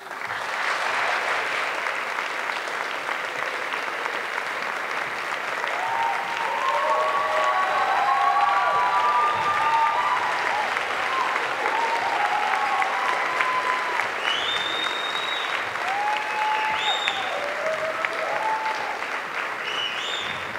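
Sustained audience applause after a poetry performance at a queer youth leadership awards event, dense clapping rising to a steady peak with faint whoops and cheers scattered through, lasting about twenty seconds.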